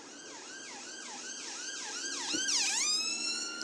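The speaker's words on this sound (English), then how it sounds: "4 ambulances." Ambulance sirens pass through a central part of town, a wailing, sweeping siren rising and falling in steady cycles, growing louder as a second siren layers in, moderately distant.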